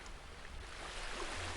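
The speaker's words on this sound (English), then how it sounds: "the waves are too loud" A steady hiss of ocean waves washes over a beach at night in the Granblue Fantasy video game, a constant broadband wash with no distinct breaks and no voices.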